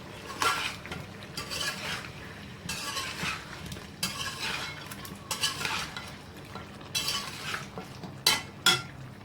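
Chicken fries in a karahi as a spatula scrapes and clanks against the metal in repeated bursts of stirring, over a low steady sizzle, with a couple of sharp clinks near the end.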